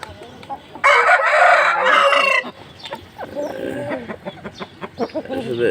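An Aseel rooster gives a loud close crow followed by a series of short clucks.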